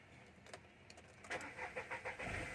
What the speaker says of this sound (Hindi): एक बार मैं गाड़ी को चालू कर लेता हूँ, चालू करके आपको दिखाता हूँ।